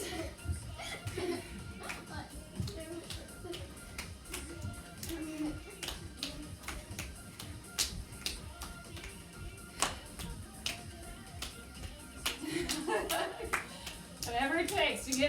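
A child claps her hands now and then during a home HIIT workout for kids and families, sharp scattered claps over music and an adult talking, with a few quicker bursts near the end.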